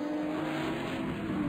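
Ferrari and Audi R8 race cars at the Daytona 24 Hours: a steady, droning engine roar holds through the whole stretch at a constant loudness, like cars running on the circuit.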